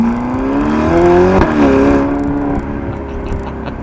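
A 2018 Ferrari GTC4 Lusso T with a 3.9 litre twin turbo V8 revs loudly and close, its engine note climbing steadily, then dipping and settling into a strong, smooth drone.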